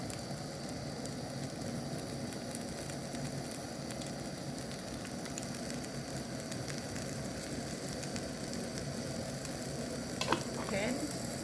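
A Chinese cabbage pancake sprinkled with sesame seeds fries steadily in a pan, a continuous dense sizzle at even loudness throughout with a brief clatter near the end.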